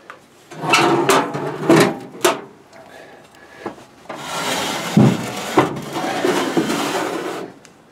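Heavy cast-iron Dutch oven holding meat loaf set back into a wood-fired outdoor oven, giving a few close scraping, knocking clunks of metal and wood followed by a longer rough sliding rasp, with no talking.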